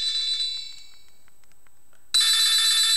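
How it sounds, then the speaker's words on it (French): Classic Alpha senior mobile phone ringing at high volume: a shrill electronic ringtone fades briefly, then bursts back in very loud and piercing. "la sonnerie peut être très très forte"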